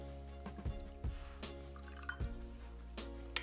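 Water for a cornstarch slurry is poured and dribbles into a bowl in several short splashing drips, close and quiet, with no talking.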